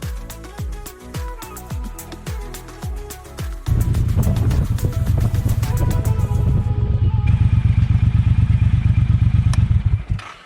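A motorcycle on a ride along the Blue Ridge Parkway toward Otter Creek Campground: first a series of clattering thumps, then a steady loud engine drone with wind rush that holds before easing off near the end.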